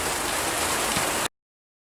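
Steady rain falls in a dense, even hiss on a surface outdoors in a February vegetable garden, close and continuous before cutting off abruptly.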